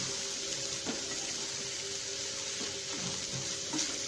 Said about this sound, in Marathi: तर आता आपण हा भात चांगला परतून घेतलेला आहे तेलावरती.